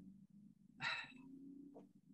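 A dog gives a single sharp bark, fairly close, over a steady low background hum, with a fainter short sound following a moment later.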